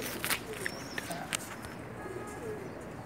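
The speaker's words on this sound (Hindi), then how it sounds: "अबू बकर भाई, आप जो कबूतर का शौक कराएं, ज़रा आँख दिखाएं पहले।" Pakistani pigeons cooing softly among people in the background, with faint low coos, a few chirps and light clicks at a moderate distance.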